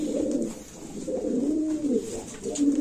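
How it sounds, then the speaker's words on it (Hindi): Soft, low cooing from a nesting pigeon repeats in a steady rolling rhythm, close by, with faint background noise and no talking. "वो कबूतर ने अपनी नेस्टिंग बना रखी है वहां पे नुक्कड़ में।"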